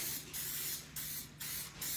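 Cooking spray hisses onto cake pans for a red velvet cake in four short, close bursts, each about a third of a second, with a steady low hum underneath.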